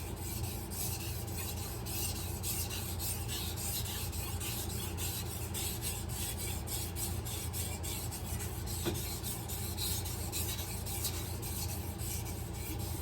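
Hard stainless steel knife being sharpened: a constant close rasping scrape, even and unbroken throughout, with a low steady hum underneath and no talk.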